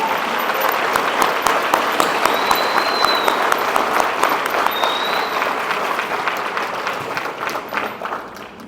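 Audience at a St. Demetrios high school graduation ceremony applauding steadily and loudly, dense clapping that holds throughout with a couple of whistles before slowly tapering at the end.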